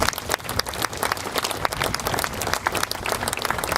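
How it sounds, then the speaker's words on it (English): A crowd claps enthusiastically, many hands producing a busy, sustained wash of applause with no speech over it. "I think we all owe them a round of applause"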